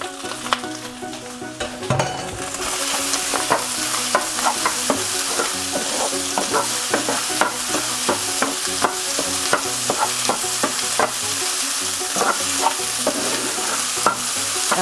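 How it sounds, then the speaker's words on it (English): Rice stir-fried in a pan over high heat for Vietnamese fried rice, a steady loud sizzle broken by repeated scraping and tossing strokes throughout. "I throw my rice in here. Just keep your heat on high right now."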